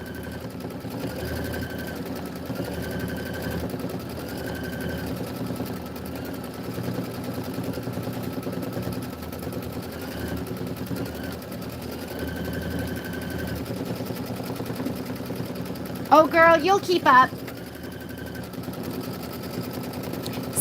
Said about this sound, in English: right now we're stitching the quilting detail